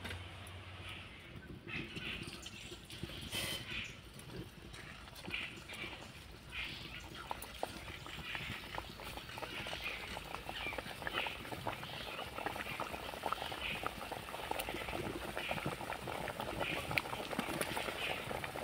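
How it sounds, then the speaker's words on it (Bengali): Semolina pitha cakes bubble in medium-hot oil, a soft, fizzing crackle with scattered small pops that slowly grows a little louder. A faint occasional knock sounds near the start. "এবার পিঠেগুলো ভেজে নেব তেলের মধ্যে।"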